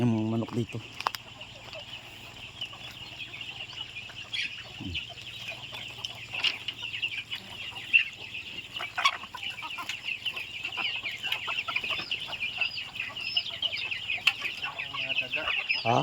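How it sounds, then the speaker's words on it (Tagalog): Chickens cluck and chatter steadily close by, with occasional sharper calls over a constant outdoor hum. "Nahog na niya ang kanyang mga manok dito."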